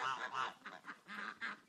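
Farmyard geese honk in a rapid, uneven series of nasal calls, moderately close, with some duck-like quacking among the poultry and no speech.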